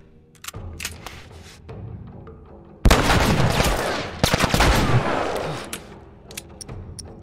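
Gunfire in The Last of Us Remastered: a few sharp shots early, then a loud, sustained burst of heavy rapid gunfire lasting several seconds before trailing into scattered quieter pops.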